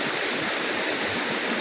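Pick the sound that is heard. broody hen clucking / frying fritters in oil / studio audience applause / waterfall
waterfall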